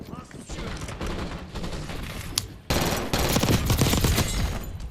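Gold submachine gun in Black Ops 6 firing rapid bursts, a continuous stream of close gunfire that intensifies partway through, with someone talking over it.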